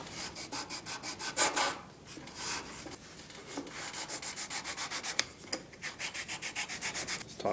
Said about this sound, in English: I'm going to switch over to my sanding block